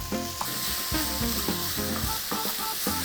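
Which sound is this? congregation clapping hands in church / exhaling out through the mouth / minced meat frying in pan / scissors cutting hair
minced meat frying in pan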